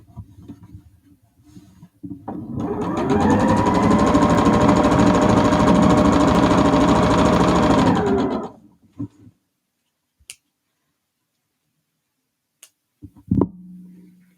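A sewing machine stitches quilt block seams in one loud, fast, whirring run lasting about six seconds close by, followed by near silence broken by a few small clicks and handling taps.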